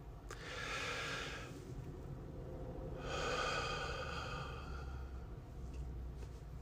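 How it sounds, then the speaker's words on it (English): A slow, deep breath drawn in and let out during a relaxation moment, two soft airy swells of breathing close to the mic, faint and unhurried, with no speech. "Let's take a breath"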